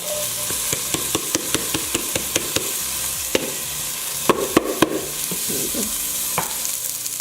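Shallot and parsley sizzling in a pan over a medium flame, a steady loud frying hiss broken by sharp clicks and scrapes of a spoon stirring against the pan.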